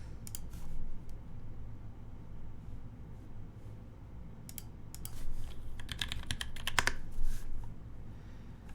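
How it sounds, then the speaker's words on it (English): Typing on a custom police-themed mechanical keyboard, close and clear, with irregular keystroke clicks and scattered rapid bursts over a low background hum. "let's get the typing sounds queued up here."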